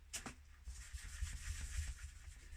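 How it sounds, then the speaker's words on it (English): A cloth rubs over the high spots of painted wood on an old clock being wet distressed for farmhouse decor, giving a soft, steady, close scrubbing. "I'm just taking a cloth and I'm just rubbing the high spots"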